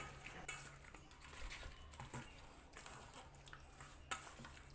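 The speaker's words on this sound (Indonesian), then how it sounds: "Selanjutnya diaduk hingga tercampur merata." Spoon stirring a mixture with lime juice and a tablespoon of salt in a bowl, with soft repeated scraping and light clinks against the dish, quiet and close with no talk.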